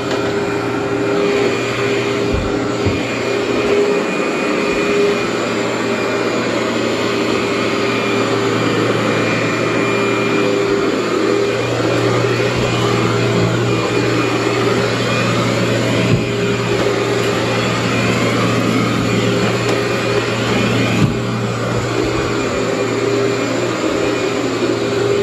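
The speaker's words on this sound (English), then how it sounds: "I'm going to run the vacuum right side to the wall" A canister vacuum cleaner runs steadily on carpet, pushed along the edge of a wall, with a constant loud motor drone and airflow hiss that holds for the whole stretch with only small shifts in pitch.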